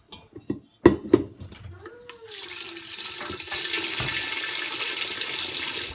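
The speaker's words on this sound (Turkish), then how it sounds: "Bunun suyu iyicene berraklaşana kadar yıkayacağız bunu." Fresh butter made from raw Jersey milk being washed in water to remove the milk, with a few knocks and splashes, then running water pouring steadily, close by.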